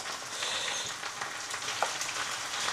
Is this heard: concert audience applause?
no